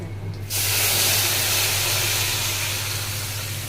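Tamarind water with asafoetida and turmeric in a hot pan gives off a sudden, loud, steady hiss of sizzling and steam that starts after a brief quiet moment and continues unbroken.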